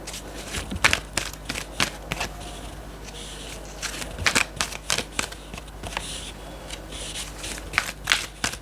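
Tarot cards are shuffled and drawn close by, with soft papery flicks and crackles that come in uneven clusters over a quiet background. No one speaks.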